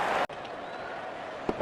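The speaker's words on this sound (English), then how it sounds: "gets a grand applause" Crowd applause at a cricket match, an India versus Sri Lanka one-day international, rolls on as a broad steady roar of clapping that drops out briefly and then returns at a moderate level.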